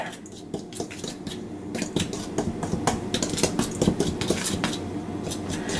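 A small whisk beats buttermilk biscuit ingredients together in a bowl, giving quick, close, rhythmic clinking and scraping strokes that speed up and grow steadier as the mixing goes on.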